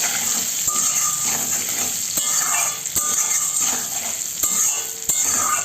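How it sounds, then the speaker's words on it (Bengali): Potato pieces with salt and turmeric frying in mustard oil: a loud, continuous sizzle close by, broken by sharp scrapes and knocks from stirring at irregular intervals. "সেই আলুগুলোকে আগে ভেজে নেব"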